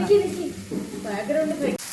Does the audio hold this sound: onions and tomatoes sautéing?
yes